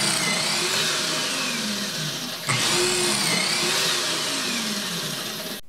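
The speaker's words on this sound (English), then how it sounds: "I use a Craig Foreman for drilling those holes, though a simple Craig jig works just fine." A Kreg Foreman pocket-hole machine drills pocket screw holes for hanging a door, its motor whining loud and steady with a brief dip midway, then running on until cut off abruptly.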